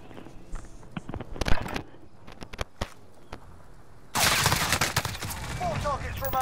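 Gunfire from a Call of Duty: Modern Warfare Warzone match: sharp close shots and bursts early on, then a dense, loud stretch of sustained shooting with crackling impacts and faint voice chat underneath.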